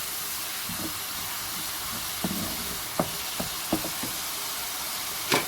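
Masala frying in a pan over a low to medium flame for chicken Afghani malai karahi, a steady soft sizzle with a few sharp clicks and pops near the end, no voices.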